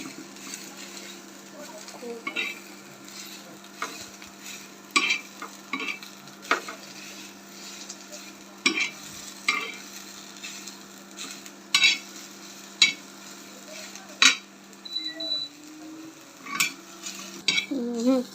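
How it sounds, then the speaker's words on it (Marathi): Onions roasting to a deep red in a pan for a chole curry, with a steady low sizzle and repeated spoon stirs and scrapes against the metal, close and moderately loud, with no talking. "कांदा पण छान लाल भाजून घ्यायचा।"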